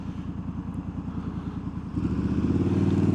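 Close Triumph Scrambler 1200 XE motorcycle engine with a slash-cut silencer idling with a rapid, uneven loping beat, then the revs rise slightly and the tone thickens and grows louder.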